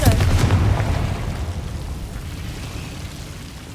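A Confringo blasting spell goes off in Hogwarts Legacy with a loud booming burst at the start that rolls into a fading rumble over a few seconds, alone without talk.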